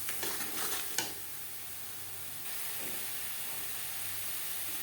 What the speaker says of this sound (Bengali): লবণ, হলুদ ও মশলা পেঁয়াজ টমেটোর সাথে বেশ ভালো করে মিক্সড করে দেব।